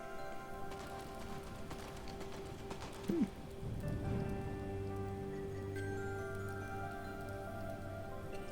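Steady rain falls in the video game Dust: An Elysian Tail, a continuous soft patter with a short burst of another effect partway through and sustained low game tones beneath, no talking.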